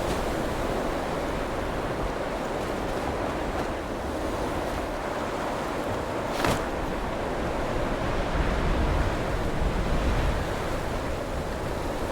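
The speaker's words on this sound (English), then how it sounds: "It is very windy." Strong, steady wind in the video game Skyrim roars continuously for several seconds as a loud, broadband rush, with a brief gust or whoosh midway and no talking.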